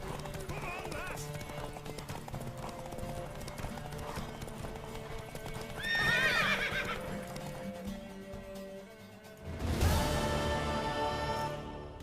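A horse in the video game The Witcher 3 gallops with steady clip-clopping hooves, then lets out a loud, shrill neigh near the end, with voices talking throughout.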